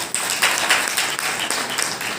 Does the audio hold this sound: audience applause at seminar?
yes